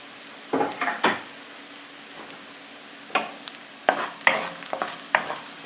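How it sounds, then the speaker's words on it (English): Garlic and pepperoncini sizzling in olive oil in a pan: a steady low frying hiss with bursts of stirring and scraping, several clustered spatula clacks against the pan, close and fairly loud, no talking. "Alright, got a nice sizzle going."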